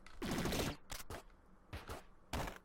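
Rapid bursts of gunfire from the player's new gun in the PC game Downwell, a dense opening volley followed by three shorter separated bursts, loud and close with no talk.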